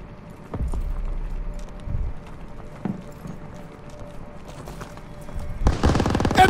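Bursts of machine gun fire in Call of Duty WW2 echo down a city street lined with storefronts, short rattling volleys at moderate distance, then a louder, closer burst near the end.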